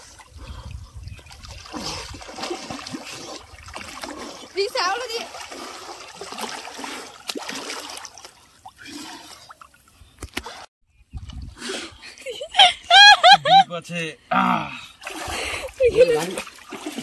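Water splashes and trickles as people swim in a pond, the splashing coming in bursts, with several people, including children, talking and calling out throughout.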